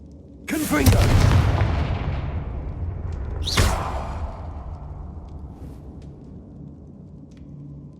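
Two explosive Confringo spell blasts in Hogwarts Legacy, each a sharp whooshing burst into a deep rumbling boom. The first hits loud and rolls on; the second follows a few seconds later and fades into low ambience.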